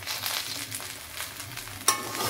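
Eggplant pieces sizzle and crackle in hot oil in a wok, a steady broadband frying hiss with small pops, and a sharper burst near the end as something is stirred or added.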